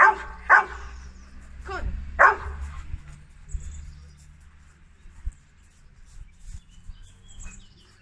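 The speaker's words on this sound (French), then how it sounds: "il ne faut pas laisser le chien aboyer" A dog barks a few times, two sharp close barks and a fainter one, during a cone-circling obedience exercise outdoors, with birds chirping faintly in the background.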